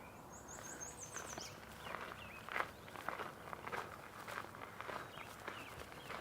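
Footsteps walking through a marsh in the early morning, soft irregular steps on damp ground at close range, with faint bird calls in the background.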